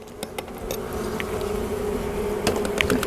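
Honey bees buzzing inside an overwintered Layens hive during an inspection, a steady close drone with a few faint knocks and ticks from the hive woodwork.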